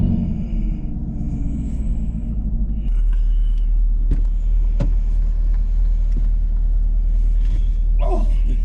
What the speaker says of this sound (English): you can hear all that secondary cat sound